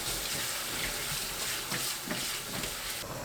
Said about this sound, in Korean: 15분 후 찬물에 대충 헹굽니다.